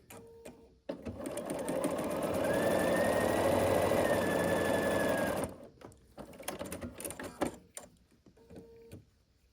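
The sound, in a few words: sewing machine stitching quilt half square triangles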